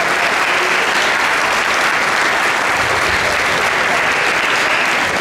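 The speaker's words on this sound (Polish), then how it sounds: "Także wielkie brawa dla Karola i dla Roberta." Sustained applause from an anniversary gathering at a castle in Rydzyna, a steady dense wash of clapping lasting throughout without any audible talk.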